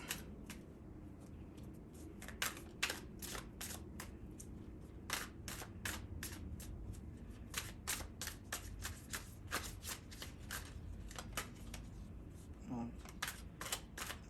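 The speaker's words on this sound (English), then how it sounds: "Like 3 cards flew out of the deck." Tarot cards shuffled by hand in a steady run of crisp riffling slaps and flutters, close and fairly loud, with a few sharper snaps as cards fly out of the deck; brief soft voice sounds underneath.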